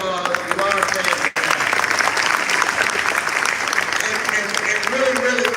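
A crowd gives a loud, sustained round of applause, dense clapping with a brief dip partway through, while a voice talks faintly beneath it.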